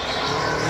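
A turbocharged Ford Mustang LSX coupe drift car on a test run at the Kielce track roars steadily and loudly, its engine noise broad and dense for a brief moment with no voices.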